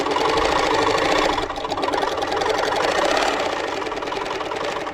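A Moxie longarm quilting machine doing free-motion quilting hums and rattles steadily with a rapid mechanical stitching pulse, close and fairly loud, with a brief dip midway before it resumes.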